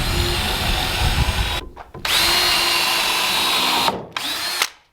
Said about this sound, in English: I'm gonna put a total of 3 to 4 screws in here to keep it right where it's at.